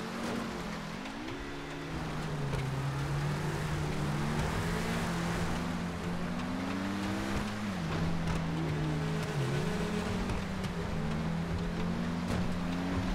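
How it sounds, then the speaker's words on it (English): Omnis race car in GTA FiveM racing at speed, its engine droning steadily and rising and falling with gear changes and corners, with constant wind noise underneath and no talk. "Omnis has got to be one of the quickest cars to have in this race."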